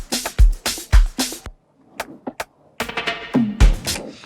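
A drum fill from an Amapiano track built in FL Studio hits as a run of punchy kicks and bright cracks, pausing briefly with a few scattered taps before a denser closing flurry.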